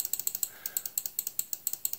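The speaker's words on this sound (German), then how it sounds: "Ihr hört es klicken." Rapid, even clicking from an RC helicopter transmitter as the pitch control is turned down, a string of about fifteen crisp, close ticks in a steady rhythm over faint background hiss, with no talking.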